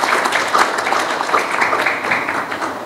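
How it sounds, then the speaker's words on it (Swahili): An audience applauds at a sports-related public address in Tanzania, a dense, even wash of clapping for about three seconds. "Makofi kwa Mheshimiwa Rais tafadhali."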